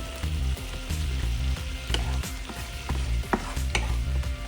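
Shrimp sizzle steadily in a hot pan with soy sauce added, a continuous frying hiss broken by scraping and clinking of a utensil stirring them around, close and fairly loud with no voices.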